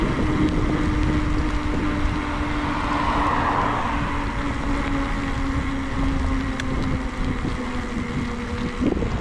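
A car on a rural road passes a group cycling with the wind buffeting the mic, giving a broad rushing engine and tire swell that builds and fades over several seconds with no speech.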